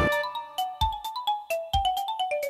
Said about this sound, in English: Hey! I got text messages.